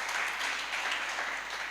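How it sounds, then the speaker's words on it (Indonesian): A church congregation applauds during a worship service, giving a short, dense and even wash of clapping at a fairly strong level. "Berikan tepuk tangan yang meriah buat Tuhan."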